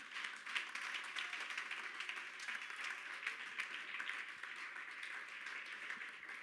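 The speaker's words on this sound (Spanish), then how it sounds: "Denle un aplauso al Señor Jesús" A church congregation applauds steadily throughout, dense overlapping claps at a moderate, fairly distant level with no voices on top.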